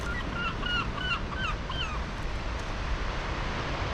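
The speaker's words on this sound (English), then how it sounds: "There a seagull." A quick series of short, nasal seagull calls rings out over constant background noise on a Scottish beach at Leven after a storm, then stops after about two seconds.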